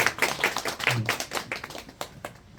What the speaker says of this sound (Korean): 지금까지 수고하신 우리 선생님들께 박수 한번보내주세요